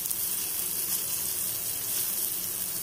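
Chopped half onion sizzles in coconut oil tempering, a steady close hiss of frying that holds evenly without any talk.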